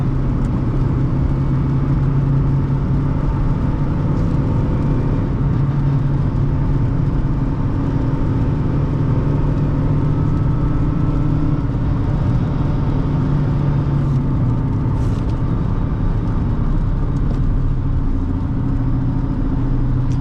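A 2008 Honda Fit engine pulls steadily in fifth gear, a loud, constant low drone with a smooth whir inside the cabin and road rumble underneath, no speech.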